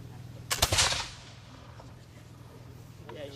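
A black powder Long Land Pattern King's Arm musket fires once in a sharp, loud blast with a short rolling echo, then the outdoor setting at a historic fort falls quiet.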